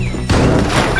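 A car slams into a wall in the destructible voxel game Teardown. One sudden loud crash breaks in after a short quiet stretch, then a dense clattering rumble of debris carries on to the end.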